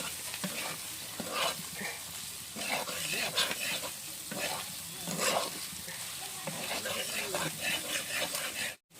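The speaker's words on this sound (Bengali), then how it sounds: "আর জিরার গুঁড়ো 1 চামচ দিয়ে দিচ্ছি। নাড়াচাড়া করবো।" Fish head with a spoon of cumin powder is stirred in a hot pan, a continuous sizzling fry with repeated scraping strokes of the spatula against the pan, fairly close, ending abruptly.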